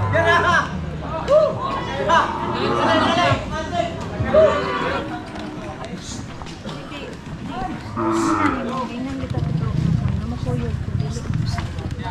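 Cattle at a livestock stockyard low and moo several times, with low, drawn-out calls that sound close by, beneath nearly constant talk and crowd chatter.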